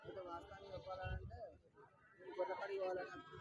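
Sheep bleat at a weekly livestock market, a few wavering calls mixed in with nearby people talking over them.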